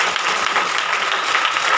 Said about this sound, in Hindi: जोरदार ताली बजा के